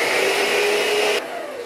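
An electric hand mixer creams butter for cupcakes, a steady loud whirring drone that drops slightly in pitch and level near the end as the beaters slow, with no talking.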